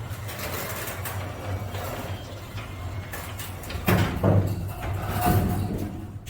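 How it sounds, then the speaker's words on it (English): A garage door opener drives the door open and closed, producing a continuous low mechanical rumble and rattle with clunks and a heavier thud toward the end, fairly close. "That's simply opening up the door and closing the door. The opener will do all the work."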